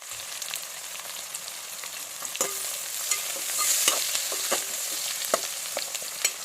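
Onions sizzle in a pan of hot oil for mutton fry, a continuous crackling hiss close by, punctuated by sharp taps and scrapes of a spoon stirring, with no voices.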